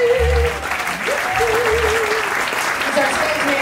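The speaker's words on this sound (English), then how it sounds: "Let's have a round of applause." An audience at a Nashville music club applauds warmly for a guest, sustained close clapping that fills the room, with a sung or shouted voice carrying over it.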